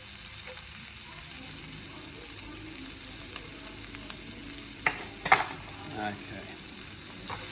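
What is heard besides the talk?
garlic frying and being stirred in a pan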